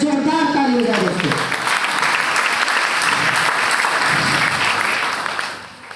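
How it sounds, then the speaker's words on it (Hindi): Loud, energetic audience applause for guest speaker Mr. Akhandeshwar Kumar Singh, starting under a speaking voice and continuing as a dense, steady roar of clapping that tapers off near the end. "मिस्टर अखंडेश्वर कुमार सिंह सर के लिए जोरदार ताली हो जाए दोस्तों"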